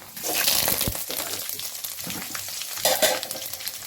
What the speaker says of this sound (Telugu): పోపు బాగా వేగాలండి